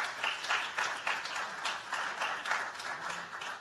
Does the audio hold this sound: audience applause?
yes